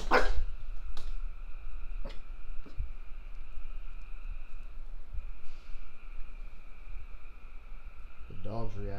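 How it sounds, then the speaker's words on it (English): A dog barks in short sharp bursts scattered across the stretch, fairly close, with a steady tonal hum running beneath and people talking near the end. "The dog's reacting to something."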